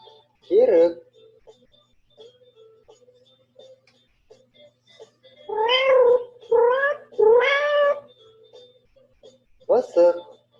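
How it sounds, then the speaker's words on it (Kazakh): A domestic cat meows several times, one short cry, then a cluster of three drawn-out meows, and a final brief meow, loud and close against a quiet background. "Мысық."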